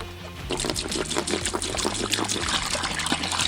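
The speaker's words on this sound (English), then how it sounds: "I'm actually gonna fill up the water thing first" Water streams steadily into a container for turkeys on a farm, a continuous close pouring and trickling rush with no talking.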